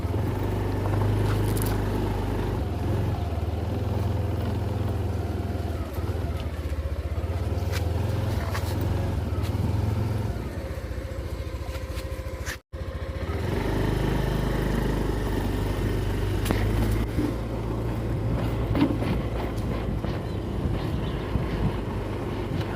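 A motorbike ridden out along the road gives a steady, loud engine drone with wind rush, continuous throughout apart from one brief dropout, with no talking.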